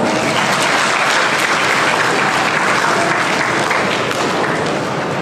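Steady, loud applause from a school audience at a convent debate competition, dense clapping sustained throughout without talk.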